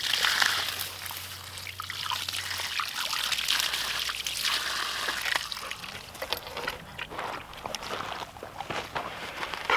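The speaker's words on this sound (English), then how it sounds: "now I'll give you a quick demo on how it works just by dumping some jugs of water on there" Jugs of water poured onto a small rain roof over a rainwater wildlife waterer, a steady splashing trickle and dribble of runoff continuing throughout at moderate level with no talk.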